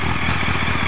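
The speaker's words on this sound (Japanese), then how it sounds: "アクティブのワンオフのチタンマフラーなんだよな" A BMW K1200S motorcycle fitted with a one-off titanium muffler runs close by, giving a steady, loud, throbbing engine note with a rapid pulsing rhythm throughout.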